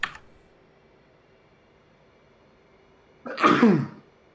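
A single sharp sneeze close to the microphone partway through, with faint keyboard clicks at the start and quiet room hiss otherwise.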